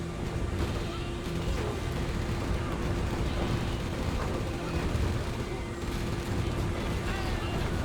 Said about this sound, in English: the Gatling cannons are just finishing off the hackers before they're able to disable the rest of the tanks